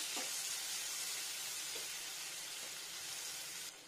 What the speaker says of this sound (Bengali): টেম্পারেচার স্লো ফ্রাই করবো পেঁয়াজটাকে।